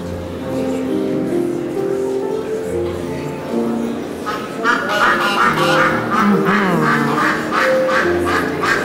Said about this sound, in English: The ducks are getting ready to sing.